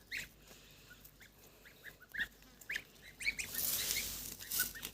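Goslings and adult geese outdoors, a scatter of short high peeping calls from the young birds with a few louder honks near the end, fairly close and unaccompanied by speech.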